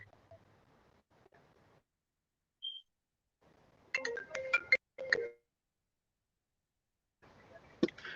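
A phone ringtone plays in short bursts of bright, stuttering electronic tones between stretches of near silence, with a brief single beep earlier and faint background noise.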